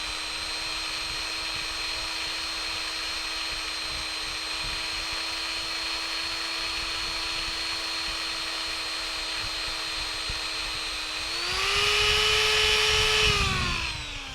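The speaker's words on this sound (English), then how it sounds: "Just any kind of rotary sander." A rotary power sander whines at a steady pitch against a wooden natural-edge vase, loud and close, then rises in pitch and grows louder near the end before easing off.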